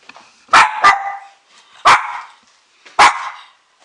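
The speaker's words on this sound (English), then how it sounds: "I do just want to say at this point that my dog is barking." A dog barks in three loud, close bursts, the first a quick double bark followed by two single barks about a second apart, with short quiet gaps between them.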